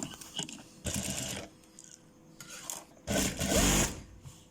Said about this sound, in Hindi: गुलाई वाली जगह में हाथ से चला लेनी है मशीन